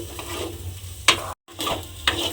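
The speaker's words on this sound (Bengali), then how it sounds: "ডিমটা দিয়ে খুব ভালোভাবে নেড়ে চেড়ে ভাজা ভাজা মতো করে নিয়েছি" Eggs are stirred and fried in a pan, with a sizzle under two sharp spatula scrapes about a second apart and a brief gap of silence between them.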